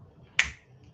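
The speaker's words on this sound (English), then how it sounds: "when I snap my fingers" A single crisp finger snap, close and sharp, rises out of a quiet room and fades quickly.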